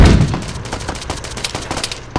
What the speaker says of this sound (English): He's getting on the mortar.